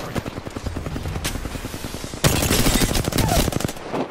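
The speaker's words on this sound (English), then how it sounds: "I am taking fire, friends." Gunfire in Apex Legends, a rapid automatic weapon rattling in quick repeated bursts, rising sharply louder and denser partway through as sustained close fire.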